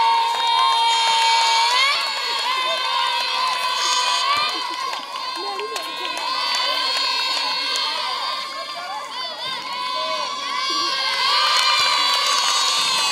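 A crowd cheers loudly while children shout and play basketball, netball and volleyball in a camp for displaced people in Edo State, the lively roar sustained throughout with excited voices rising and falling.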